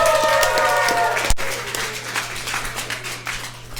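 A live crowd at a League of Legends esports semi-final applauds, a dense wash of clapping and cheering in a large arena that stays steady throughout, mixed with a voice over a low hum.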